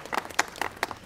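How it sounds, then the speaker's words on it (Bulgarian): Brief scattered clapping from an audience at a yearly school reunion event, a handful of distinct claps over about a second, fairly faint. "Бурни аплодисменти за нея!"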